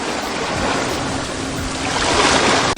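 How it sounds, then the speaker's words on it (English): Ocean waves play as a stock sound effect in Filmora: a steady, dense wash of surf that stays loud throughout and swells slightly near the end, with no voices. "so maybe we can use this ocean sound effects here"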